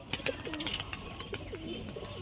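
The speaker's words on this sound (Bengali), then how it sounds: "এটা নর পায়রা।" A male Murshidabadi pigeon cooing up close, soft rolling coos repeated a few times over light background rustle and clicks.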